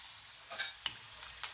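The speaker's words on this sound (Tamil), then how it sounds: "இஞ்சியை எண்ணெயிலே நல்லா வதக்கணும்." Ginger frying in oil for chutney, a soft continuous sizzle with a few light stirring scrapes and clinks of a spoon in the pan, quiet and close with no talking.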